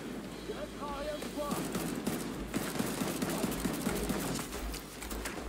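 Rapid gunfire rattles in The Division 2 video game, a fast burst of evenly spaced shots under constant game ambience, with a player talking over it.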